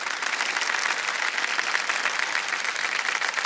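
A studio audience on the KBC game show claps loudly and steadily, a dense, even wave of applause with no talk over it.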